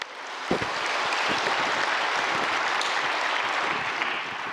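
A church congregation breaks into loud sustained applause after a sharp onset, the many hands forming a dense even roar that holds steady and then tapers slightly.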